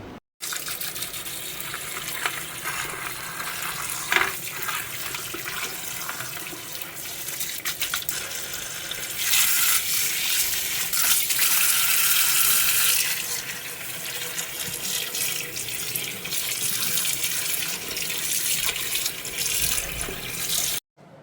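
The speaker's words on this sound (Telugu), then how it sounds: "విడివిడిగా చేసేసి కడుక్కోవాలి కడుక్కు చూపిస్తాను" Tap water runs steadily into a sink while leafy greens are washed, a constant close splashing hiss that swells louder and brighter midway before settling back.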